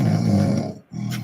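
A man imitates snoring with his voice, giving a loud, rough, rattling inhale-like drone, a brief pause, then another snore starting up, close and alone.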